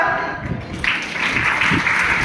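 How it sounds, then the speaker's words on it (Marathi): Applause from guests at a birthday party with a magician, a short burst of clapping that swells after a quiet start and then holds steady for a couple of seconds. "जोरदार टाळ्या एकदा."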